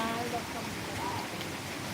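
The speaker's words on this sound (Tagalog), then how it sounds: "Hindi nga malakas yung ulan" Light rain falls steadily as an even hiss on surfaces during a rainy afternoon in the countryside, with a faint voice murmuring underneath.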